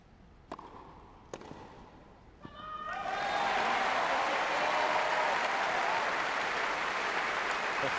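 At a 2012 Wimbledon quarter-final tennis match, three sharp ball strikes ring out before the crowd erupts into loud, sustained applause and cheering that swells and holds to the end.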